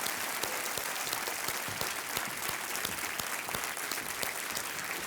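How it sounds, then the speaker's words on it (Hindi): A studio audience on the Kaun Banega Crorepati game show gives a loud, dense, sustained round of applause welcoming a contestant, thick and unbroken throughout. "जोरदार तालियों के साथ इनका स्वागत किया जाए, रशीमा राणा का।"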